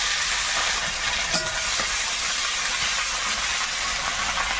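Dried chillies, bay leaf, panch phoron, chopped onion, garlic and ginger frying in hot oil in a kadai; a loud, continuous close hiss and sizzle with a faint clink now and then, no talking.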